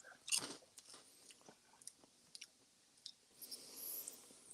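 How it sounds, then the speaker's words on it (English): Someone chews dry, crunchy marshmallow cereal up close, with a scattering of small crisp crunches and bites, quiet and without talk. "I can really taste the marshmallows on those crunchy pieces"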